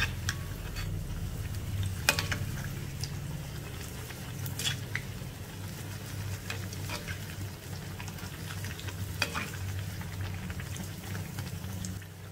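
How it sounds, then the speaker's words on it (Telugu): Snacks fry steadily in hot oil, a continuous close bubbling sizzle with scattered sharp pops and crackles throughout, alone without talk. "ఇంతకు ముందులాగే వీటిని కూడా ఫ్రై చేసేసుకోవాలి."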